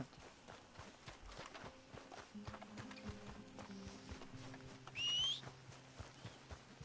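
Horse hooves clip-clopping in Red Dead Redemption 2, a steady run of soft, fairly close footfalls under game music and ambient noise, with a brief whistle near the end.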